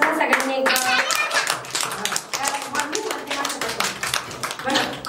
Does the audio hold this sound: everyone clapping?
yes